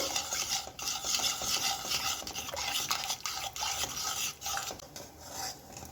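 Curd (dahi) mixture being stirred in a pan for vaghareli bhakri, a dense continuous scraping and swishing of a spoon against metal with a faint sizzle beneath, close and steady with brief pauses.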